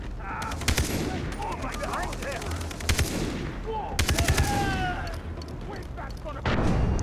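Far Cry 3 gameplay with rapid bursts of automatic gunfire and scattered single shots, loud and close, with game ambience and a burst at the end.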